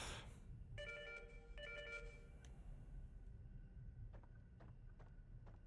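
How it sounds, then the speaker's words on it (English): In Fatal Frame 4, a ghost phone rings in short, bright, repeated bursts over a quiet, murky ambience, and a few sharp ticks follow as the ringing stops. "we'll pick up the ghost phone"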